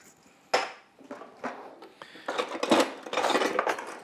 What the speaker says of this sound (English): put a lid on it and let it slowly cook